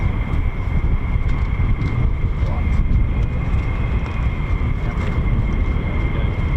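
F-15 fighter jets taxiing out at an air base, a loud steady engine roar with a whining tone, continuous throughout and buffeted by wind on the microphone.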